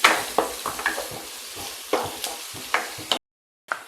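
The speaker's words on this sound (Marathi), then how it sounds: "आता आपण कांदा टाकूया। परतून घ्यायचा आहे सोनेरी कलर येईपर्यंत मंद आचेवर।" Onions sauté slowly over a low flame for a spicy Maharashtrian dried-fish dish, with a steady sizzle broken by regular spoon scrapes and stirring knocks against the pan, then a brief silence before one more stir.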